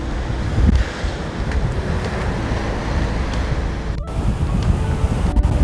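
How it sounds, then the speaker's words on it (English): Wind gusting across a Maui beach with tide pools, a loud continuous buffeting roar with microphone rumble, mixed with wash of surf, and no talking. "the wind is blowing a little bit, so I hope you can hear me"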